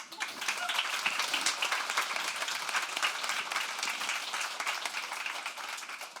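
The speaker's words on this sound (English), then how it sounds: "let's give them a round of applause." Sustained applause from the audience of a fashion industry panel, dense crisp clapping that holds steady for several seconds.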